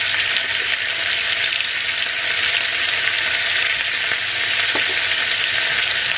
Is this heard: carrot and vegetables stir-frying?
yes